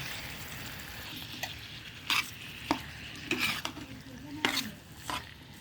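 Jackfruit seeds and meat being stirred and fried together in a pan: a soft, low sizzle broken by several distinct scraping strokes of a spatula.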